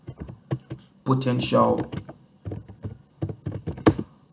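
Someone types an email on a computer keyboard, sharp key clacks coming in quick clustered bursts, with a person speaking briefly in between.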